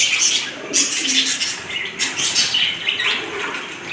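Pigeons at a pigeon farm in a Bangladeshi market beat their wings in repeated close bursts of flapping, with faint coos and chirps underneath and no talk.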